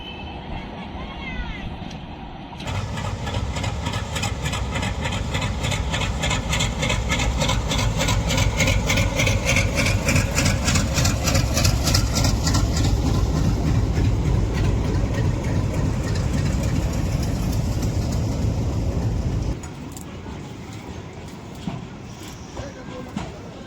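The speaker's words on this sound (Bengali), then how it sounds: "দ্রুত গতিতে গাড়ি একদমই ডবল ডিজেল লোকোমোটিভ সঙ্গে দশটা লোডেড ববিয়ান পাথরের গাড়ি" A double diesel locomotive hauling ten loaded stone wagons crosses the Nashipur rail bridge at speed. A loud, close engine roar swells in with rhythmic rail clatter, holds for most of the stretch, then drops away, with someone talking over it.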